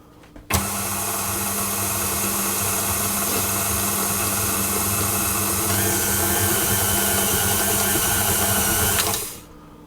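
A stand mixer with the beater attachment starts up and mixes sweet bun dough, a loud steady motor whir with a high whine that runs continuously for about nine seconds before winding down.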